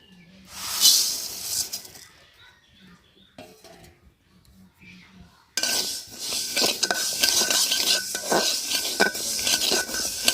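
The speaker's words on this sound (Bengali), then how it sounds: "মুগ ডালটা আমি শুকনা খোলায় ভেজে নিচ্ছি।" Moong dal being dry-roasted in a pan and stirred, giving scraping, rattling stirs and a steady hiss. Short bursts come first, then louder, continuous stirring to the end.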